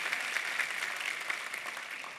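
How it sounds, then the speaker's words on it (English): An audience at a live church service claps together in a steady stretch of moderate applause, a dense patter of hand claps with no talk over it. "can we clap to that today?"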